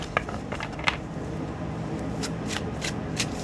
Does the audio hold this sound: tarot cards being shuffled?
yes